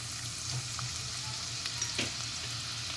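Chopped onion sizzles and fries in a spoonful of hot oil in a pan, a steady close crackle with soft stirring scrapes and no voices.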